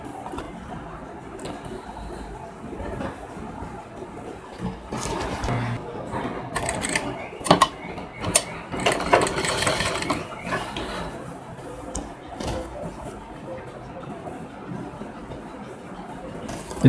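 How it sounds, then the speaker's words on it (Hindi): A sewing machine stitches a princess-cut lehenga blouse, running in short irregular bursts of close, rattling mechanical clatter separated by brief pauses. "इसकी सिलाई स्टार्ट करते हैं।"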